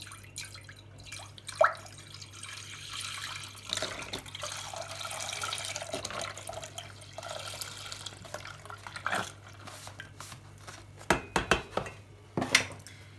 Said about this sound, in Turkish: 1 litre sütümü alıyorum tencereye